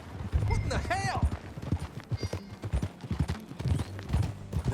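Horse hooves clip-clop steadily in Red Dead Redemption 2, a close, rhythmic trotting beat that runs through the whole stretch beneath characters' spoken dialogue.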